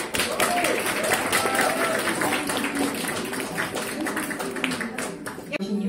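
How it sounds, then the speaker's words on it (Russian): Applause rolls through an audience at a Mary Kay Moldova company party honoring sales leaders, a dense steady clatter of many hands held at a loud level for about six seconds with voices mixed in. "Аплодисменты."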